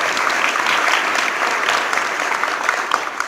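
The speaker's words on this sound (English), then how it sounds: "How about a round of applause for that?" Crowd at a congressional district town hall in Mesa breaks into loud, dense applause, a continuous roar of many hands clapping with no voices over it.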